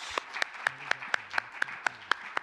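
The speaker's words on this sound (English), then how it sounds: "Please give them a round of applause." Audience applause for conference panelists at an African integration event: a faint, fairly steady series of sharp claps at an even rhythm, with no voices over it.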